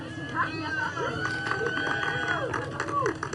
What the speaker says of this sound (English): Some thunderous applause is always a good sign.